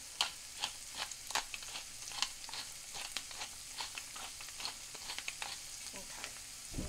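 Onions cooking down in butter in a pan for Thanksgiving stuffing, seasoned with salt and black pepper, give off a soft steady sizzle with scattered crackles and pops throughout, close and fairly quiet, no voices.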